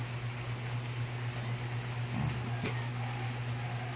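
Rain falls steadily in a rural Cebu province setting, a continuous even hiss over a low constant hum, with no clear breaks.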